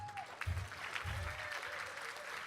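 A small group claps in a brief, soft patter of applause at a gala, somewhat distant and fairly quiet.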